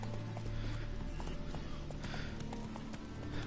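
A horse trots in The Witcher 3, with steady rhythmic clip-clop hoofbeats under a constant game background, fairly quiet and continuous.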